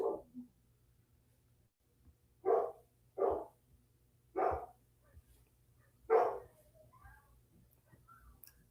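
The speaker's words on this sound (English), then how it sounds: "my golden doodles found somebody bark at outside" Golden doodle dogs bark outside: five sharp barks at uneven intervals, moderately distant and alone over a quiet low hum.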